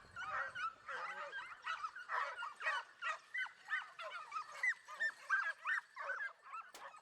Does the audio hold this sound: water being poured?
no